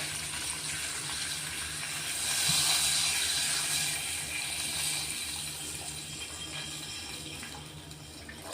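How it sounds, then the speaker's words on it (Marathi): Steady rushing hiss of about one and a half glasses of water poured into a hot pan, swelling briefly and then settling into a constant simmering wash. "दीड ग्लास पाणी टाकलेलं आहे"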